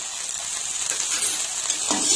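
A taro and fish mixture being stirred in a hot pan, with a steady sizzle and hiss of frying throughout and soft scraping and clinks of the spoon near the end.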